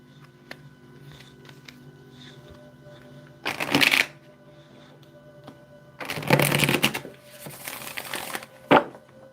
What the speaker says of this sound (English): Do 2 more shuffles.